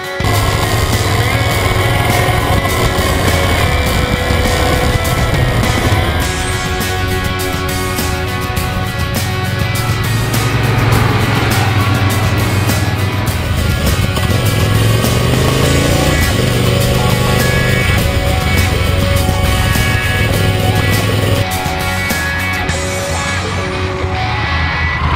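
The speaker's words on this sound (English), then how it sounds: "I like this bike so much, I just want to get back out on it and go riding." Triumph Thunderbird Storm motorcycle being ridden, its engine a loud continuous rumble with rising and falling revs and gear changes throughout, close and strong with wind noise and no talk.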